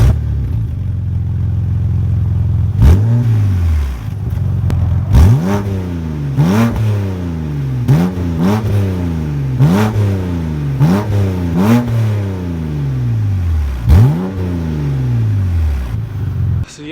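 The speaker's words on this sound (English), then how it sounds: "I completely forgot to film a startup with no muffler" A BMW engine running with its muffler removed, revved repeatedly: about eight sharp, raw blips rise and fall in quick succession, loud and close, with a throaty unmuffled bark over a rough idle.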